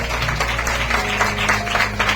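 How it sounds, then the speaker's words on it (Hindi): A church congregation at a Sunday service claps hard, steady rapid applause blending with musical tones throughout. "ताली बजाएंगे जोर से"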